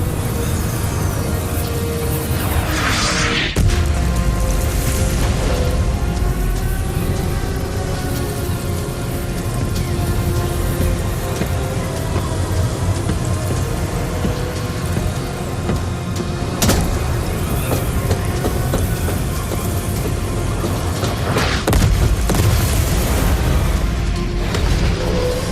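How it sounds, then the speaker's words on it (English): Artillery fire in a MechWarrior 5: Clans cutscene: a steady, dense roar of low rumble with repeated booming impacts, including sharp blasts near the start and at intervals throughout. "They have this place pre-sighted for artillery."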